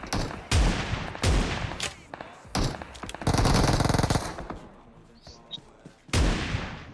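Gunfire in the mobile battle-royale game PUBG Mobile, with several loud booming shots and a dense burst of rapid fire, mixed with other game effects in a hectic firefight.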